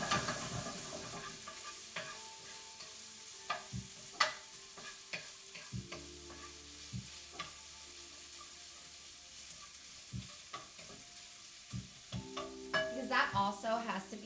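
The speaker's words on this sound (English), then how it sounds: "we're just going to give that a quick stir." Bacon for meatloaf frying in a pan, a soft continuous sizzle with scattered clinks and scrapes of a utensil as it gets a quick stir, fairly quiet and without talk.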